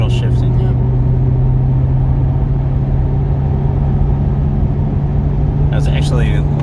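Interior rumble of a 2020 Chevy Corvette driven with paddle shifting in manual mode, a loud steady engine and road drone with a constant low hum, with people talking briefly at the start and end.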